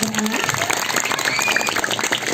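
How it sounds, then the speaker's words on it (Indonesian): Audience at a comedic prembon show clapping for a performer, a brief burst of scattered hand claps with crowd noise mixed in. "Tepuk tangan untuk penabur ini luar biasa sekali."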